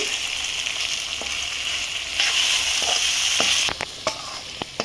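Steady sizzling of spice powder frying in hot oil, a broad hiss that swells louder midway, with a few sharp clicks and taps near the end.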